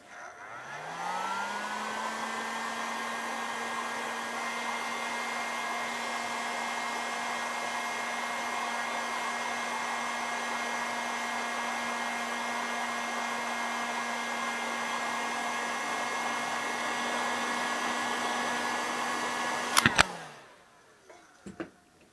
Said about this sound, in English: Now that piece of heat shrink, just slide over there and shrink that off as well.